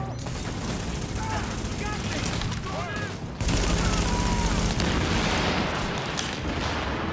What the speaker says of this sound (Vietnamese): Mình bắn ép nó lại nè.